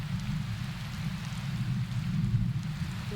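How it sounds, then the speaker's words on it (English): Hail and rain fall steadily in the survival video game Prologue: Go Wayback, a dense continuous hiss and patter of drops heard alone, with no talking. "Just hanging out in a hailstorm."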